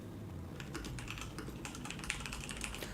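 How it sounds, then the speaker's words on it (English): Someone types very fast on a computer keyboard nearby, a dense, unbroken patter of crisp key clicks that starts after a brief pause and keeps going under a steady low background hum, with no talk. "Someone's machine gun typing here."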